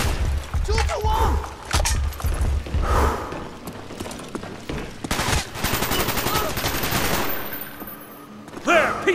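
Call of Duty Black Ops combat: loud, rapid bursts of gunfire fired at a wall, with echoing impacts and shouted voices between the volleys.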